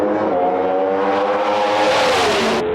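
Pontiac Pro Stock drag cars making a pass at a Las Vegas race, a loud sustained engine roar with rising harmonic pitch as they accelerate hard, close and overwhelming, cutting off abruptly at the end.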